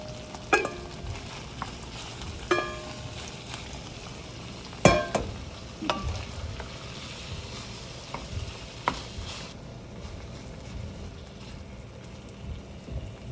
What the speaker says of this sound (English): And now I will add the ground beef here.